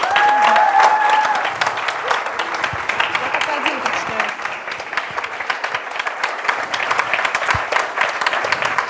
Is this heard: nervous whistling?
no